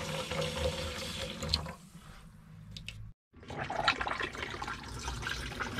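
Pink descaling liquid drains from a van's water system into its grey water tank, a close, gurgling rush of flowing water that briefly drops away, cuts out for a moment, then resumes.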